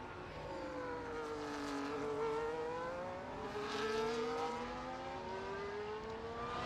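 Race car engine in a sim racing game on the Spain circuit, a faint, distant-sounding whine rising and falling in pitch as it revs through gears, with no talk.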